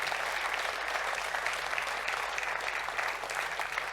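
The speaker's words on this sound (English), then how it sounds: "Please give Alan a round of applause" A conference audience applauds, a dense, steady patter of many hands clapping at a constant level for the whole stretch, with no talk over it.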